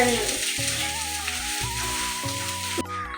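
Potatoes fry with a loud, even hiss of sizzling oil that runs throughout beneath steady tonal music, then cuts off abruptly at the very end.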